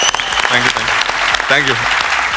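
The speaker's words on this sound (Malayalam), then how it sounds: "അപ്പോൾ അതിന് ഒരു കയ്യടി ആദ്യം തന്നെ തന്നു" An audience at a comedy show claps in a bright burst, and a person talks over the ongoing applause.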